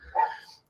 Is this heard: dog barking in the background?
yes